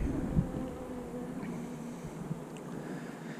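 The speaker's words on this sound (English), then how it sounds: "Lots of bees here." Honey bees in an open hive box give off a steady, soft, low buzzing drone, close by and continuous, with no talking.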